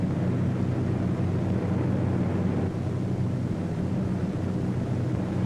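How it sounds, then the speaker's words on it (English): A formation of World War II B-17 bombers drones in flight, a dense, steady low roar of many piston engines, constant and unbroken, with no voices. "A formation of 18 B-17s was on its way to attack Rouen."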